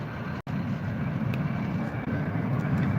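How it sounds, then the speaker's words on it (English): A jet airplane passes overhead near Burbank, a steady broad roar holding at a fairly even level for a few seconds with no talk. "That could be our jet coming right now."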